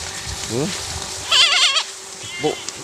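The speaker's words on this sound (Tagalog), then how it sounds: "Kambing ito." Anglo-Nubian or Boer goats on a farm give several wavering bleats, one long and loud with a strong quaver, between shorter calls close by, with faint voices in the background.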